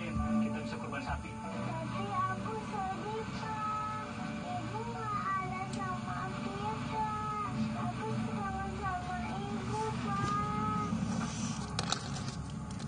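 Cattle low and moo repeatedly at a livestock market where a cow is being chosen for the Eid al-Adha sacrifice, the calls rising over steady crowd chatter and background voices throughout.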